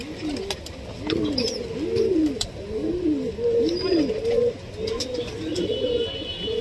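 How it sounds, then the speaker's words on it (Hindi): Pigeons coo in a steady, repeating rolling rhythm close by, with a few faint chirps and a light background hiss. "वो यही कबूतर है भाई।"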